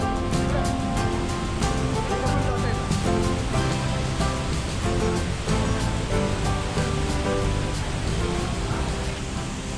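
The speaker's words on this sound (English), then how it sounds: "you are actually below the waterfall and feel the water flowing outside the cave" Thoseghar waterfall heard from inside a 50-foot rock cave beneath the falls: a dense, steady roar of rushing water, loud and unbroken for the full stretch, with no distinct individual splashes.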